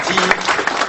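Audience applause for attendees from Aquitaine at a political welcome meeting in Toulouse, a dense, steady wash of clapping lasting about a second, with a voice faintly mixed in.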